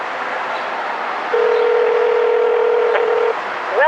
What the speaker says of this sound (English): Let's go ahead and do a test call here, calling customer service,